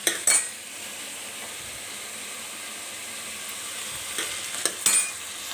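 Hot tempering for a potato cauliflower curry hisses softly and steadily, framed by a few metallic clinks of utensils against the pot at the start and near the end.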